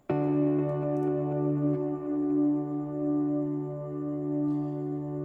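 A single guitar note held indefinitely by a Quad Cortex freeze effect, a steady unchanging drone starting abruptly and sustaining at even level throughout, with no voices.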